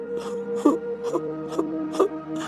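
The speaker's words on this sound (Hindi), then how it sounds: "उन लोगों को किसी औरत के रोने की आवाज आने लगी" A voice weeps and moans in a fairy-tale scene, rising in repeated sobbing swells roughly every half second over a low steady drone, close and fairly loud with no talk.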